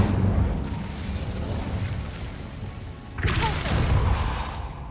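Incendio fire spell in Hogwarts Legacy bursts with a sudden whooshing blast partway through, rising out of a low rumbling ambience and trailing off into a fading crackle.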